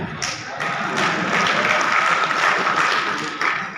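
An audience at a Hindi poetry recital in Ratangarh breaks into loud, sustained applause, a dense wash of many hands that swells and holds for several seconds.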